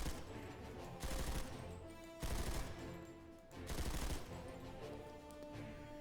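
Automatic weapon fire in the video game Planetside 2 comes in three short, loud bursts separated by brief pauses, with a quieter fourth burst at the end.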